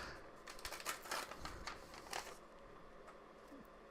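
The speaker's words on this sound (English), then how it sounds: "I probably could just tear it with my fingers, but I have this huge knife, so why not use it, right?" A large knife slices open a fan mail package in a quiet room, giving a series of short, faint cutting and tearing scrapes in quick succession, ending in a sharp little snap.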